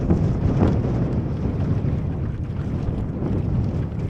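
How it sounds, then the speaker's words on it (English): A strong gust of wind on a Drascombe Lugger sailing dinghy buffets the microphone with a loud, rumbling roar that swells and stays heavy throughout, no talking. "Look at this gust, proper gust coming in."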